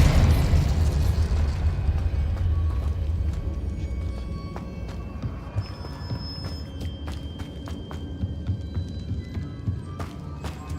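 A spell explosion in Hogwarts Legacy opens with a loud booming burst that rumbles and decays over several seconds, followed by scattered sharp crackles and small debris pops, with no voices.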